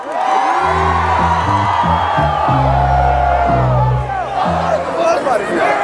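A crowd cheers and whoops at a Baltimore Ravens send-off rally, the cheering loud and continuous beneath a booming, stepping musical line of sustained notes, with babble and shouts blending in.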